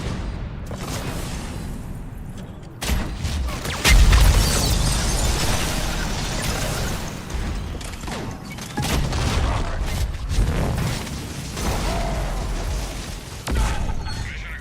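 Rocket blasts in a video game, a string of loud booming explosions and bursts filling the whole stretch with dense, continuous battle noise.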